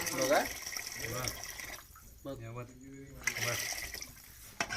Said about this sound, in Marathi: आता वाटतं त्याच्यामध्ये पाणी